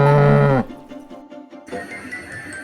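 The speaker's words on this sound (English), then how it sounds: "mama cow, baby calf." A cow gives a single loud, low moo at the start, followed by quieter farm ambience and a brief rustle of livestock noise.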